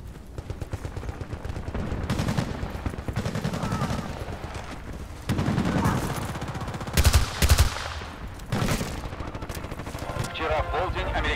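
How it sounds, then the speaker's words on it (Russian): Gunfire in a Battlefield: Bad Company 2 Vietnam multiplayer match, including a sniper: repeated loud shots and bursts with rhythmic rattling fire, close and punchy, with players talking over the fighting. "там чувак какой-то простреливает, снайпер, наверное"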